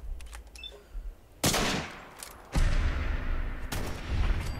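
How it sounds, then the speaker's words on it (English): Gunfire in the video game Fallout 4: three loud, booming shots spaced about a second apart, each with a long rolling echo, after a few faint clicks. "Let's see if we can get a Deadpool double headshot."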